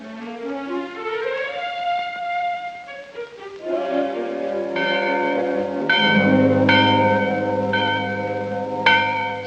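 Bells ring in a winter ski town at school letting-out time, giving loud, resonant tolling strikes that overlap and sustain into a layered, ringing chime with no talking.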